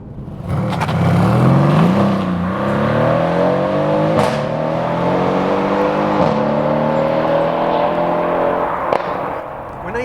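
A Mercedes-AMG C63 S engine pulls hard and loud up close, its tone climbing repeatedly with quick drops at each gear change as the car accelerates.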